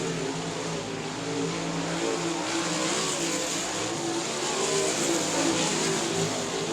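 Sprint cars race in a main event on the South Texas Speedway track. A continuous, dense roar of several engines holds steady throughout at moderate distance, with slight swells as cars pass.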